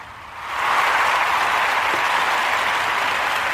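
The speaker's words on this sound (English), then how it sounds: "So let's clap it up for the culture." A crowd at a live spoken-word show breaks into applause, a steady, full wash of clapping that swells in quickly and holds evenly to the end.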